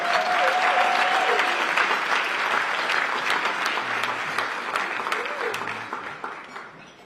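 Luncheon audience applauding, a dense, even wash of clapping at moderate loudness with brief murmurs, tapering off toward the end.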